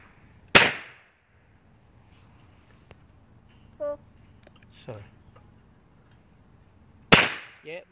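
Two loud sharp shotgun blasts at driven clay targets, well apart, each with a short decaying tail, with quieter clicks and handling noises and faint talk in between.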